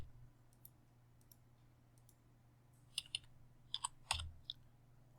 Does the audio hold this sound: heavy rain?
no